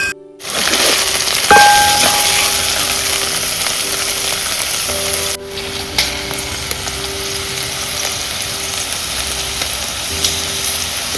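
Okra frying in a pan during Malvani village cooking, a steady loud sizzle that starts abruptly and holds throughout, with a faint clink of utensils partway through.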